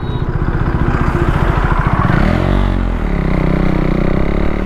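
A motorcycle passing on a town road, heard from a vehicle riding along: a loud, close engine drone with a rising then falling pitch as it goes by, under steady road and wind rumble.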